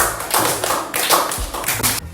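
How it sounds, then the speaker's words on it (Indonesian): Schoolchildren in an Islamic religious education classroom clap together, a dense burst of hand claps close by that runs steadily for about two seconds with a few stronger thumps. "Baik, tepuk tangan."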